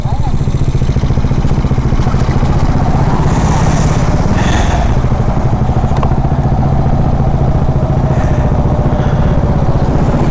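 A Bajaj Dominar motorcycle engine runs steadily throughout, loud and close with a constant droning rumble and some rattle, heard while travelling on a road trip from Mumbai toward Vrindavan.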